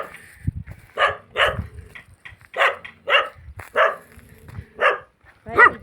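Two village dogs bark loudly nearby in a run of about nine evenly spaced barks, with brief quiet gaps between them.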